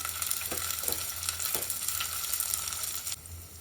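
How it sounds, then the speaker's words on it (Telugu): Ginger garlic paste with slit green chillies and onions frying in a pan, a continuous close sizzle with a few scraping stirs from a spatula, ending abruptly near the close. "కొంచెం అల్లం వెల్లుల్లి పేస్ట్ వేసి పచ్చివాసన వేయడాక వేయించుకోవాలి"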